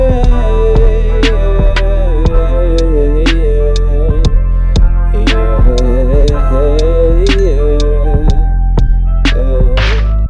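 Vocal chops sliced in Ableton Simpler from a processed recorded voice: short pitched vocal fragments stepping in melodic patterns over steady low bass and clicky percussive hits, loud and dense throughout.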